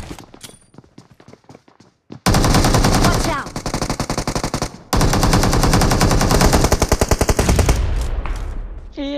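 Automatic gunfire in PUBG Mobile, loud sustained bursts of rapid shots with brief pauses, preceded by scattered single shots and footsteps, with players talking over it.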